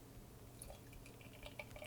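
Beer from a can of White Shoal Mosaic New England IPA pours into a glass, faint trickling and small drips of liquid running steadily for a couple of seconds with no talk.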